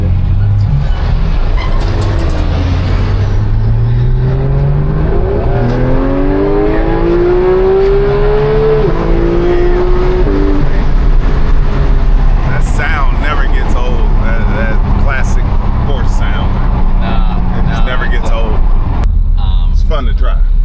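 A Porsche GT3 Touring engine climbs through the revs while driving in second gear, its rising whine sweeping upward loud and close inside the cabin, then settling into a sustained roar with voices talking over it.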